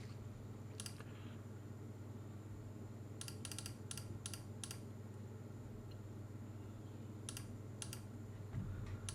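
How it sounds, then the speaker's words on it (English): Computer keyboard typing in short, quick bursts of clicky keystrokes, separated by pauses, over a steady low hum in a quiet room. "I'm just going to type some stuff in"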